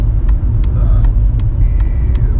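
A car pulls slowly into a roadside lay-by where a lorry is parked, its engine a loud, steady low rumble close to the microphone, with faint ticking clicks repeating over it.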